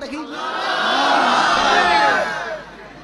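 A large crowd at an Islamic religious gathering shouts takbir together, a swelling massed roar of many voices that builds, holds loud for a couple of seconds, then tapers off.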